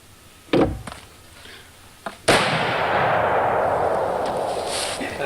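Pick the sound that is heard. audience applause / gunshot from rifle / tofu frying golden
gunshot from rifle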